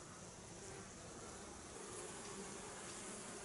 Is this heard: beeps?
no